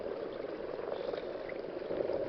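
A writhing mass of frogs gathered in a mountain pool, a dense continuous chorus of churring calls and splashing at moderate volume.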